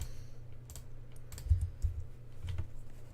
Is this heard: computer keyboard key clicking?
yes